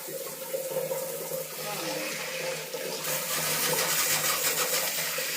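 A bathroom hand shower in a village house sprays water in a steady, close hiss that grows slightly louder and fuller partway through.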